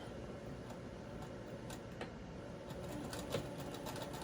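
A sewing machine stitches doll blouse fabric with a steady, soft mechanical whir and light ticking, fairly quiet and continuous with no talking.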